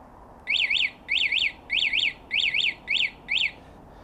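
A Lextech Alarm 03 fitted to a Lexmoto Michigan motorcycle sounds its panic alarm: six short, shrill warbling electronic bursts in a steady rhythm over a quiet background, loud and close, with no talk.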